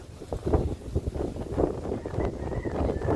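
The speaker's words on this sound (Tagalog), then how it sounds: "Lakas ang hangin." Strong gusting wind buffets the microphone during a tilapia fishing outing, a close, rough, fluttering rumble that rises and falls over a few seconds with no other clear sounds.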